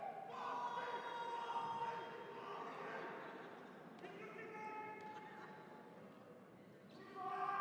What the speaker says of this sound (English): So a lot of shouting on the crowd.